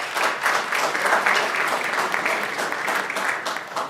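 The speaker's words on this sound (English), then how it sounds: "Let's also give a big round of applause to Valle Verde's regional winners" Applause at a school district board of trustees meeting honoring regional winners, a steady dense wash of many hands clapping through the whole stretch, fairly close and even in loudness.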